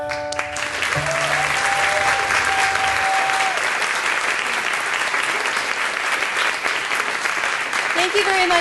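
A crowd applauds steadily and loudly, with sustained clapping that fills the whole stretch without pause.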